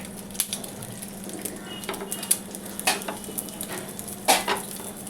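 Bread slices frying in a pan for Bombay toast, with a steady low sizzle and scattered clinks and scrapes of a spatula against the pan, close and fairly quiet, with no talking.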